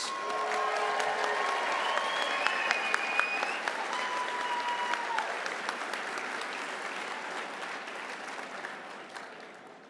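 Sustained audience applause welcoming keynote speaker Sarah Cantwell at the 69th Annual Goddard Memorial Dinner, dense steady clapping filling the room for the full length and easing slightly toward the end.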